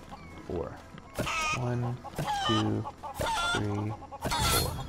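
Chickens in the LEGO Worlds video game cluck and squawk in repeated loud, tonal bursts, several calls in quick succession, close and clear over game background sound.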